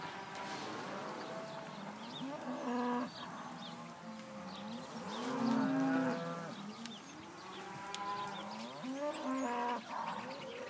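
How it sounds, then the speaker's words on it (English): Hereford heifers moo at a cattle sale. Several low, drawn-out calls overlap and rise and fall at a moderate distance, with a faint background murmur of the sale barn. "here's a group of Hereford heifers"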